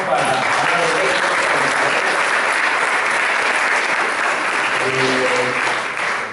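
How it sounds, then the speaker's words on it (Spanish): Steady, loud applause from an audience at an entrepreneurship event, filling the room as a continuous wash of clapping with faint voices underneath. "Un aplauso"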